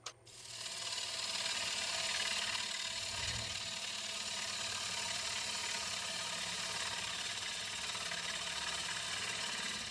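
Wood lathe turning the bottom of a maple bowl blank with a gouge, a steady whirring grind that holds evenly throughout, with a brief low rumble early on and no talk.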